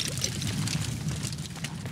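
Bubbling liquid in the survival horror game The Evil Within gives a steady, faint gurgling and fizzing wash that carries on without a break.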